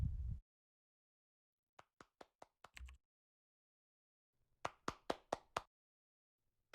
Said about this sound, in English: Please clap, everybody.